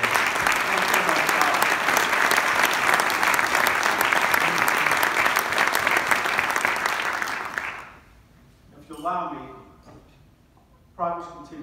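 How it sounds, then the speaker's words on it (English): Loud, sustained audience applause at a city's annual state of the city address, dense clapping that fills the hall for about eight seconds before cutting off, followed by someone speaking. "let's give the Christophs a round of applause"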